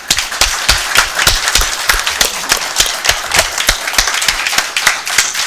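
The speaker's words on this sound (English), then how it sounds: "So I'd like y'all please to just give them a round of applause." A city council meeting room erupts in applause for two police officers, a small group's hands clapping loudly and close by in quick, somewhat irregular bursts of sharp claps with no voices heard.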